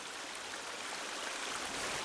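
River water in the video game The Forest flows in a steady, even broadband rush, moderately quiet and continuous with no voices.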